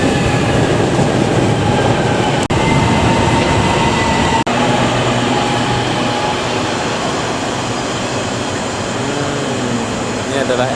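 An MRT train to Sentul Timur stands at a station, its steady loud hum and whine of ventilation and motors running throughout, with two sharp clicks and faint tonal sounds later, like a chime or announcement.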